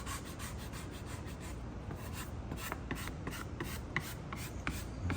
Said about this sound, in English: again, use your squeegee.